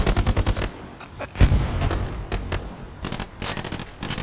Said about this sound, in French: J'ai pris une grenade, ça m'a fait traverser l'autre dessous de la gare.